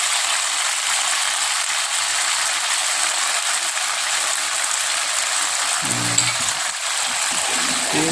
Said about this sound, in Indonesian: Selanjutnya kita aduk-aduk.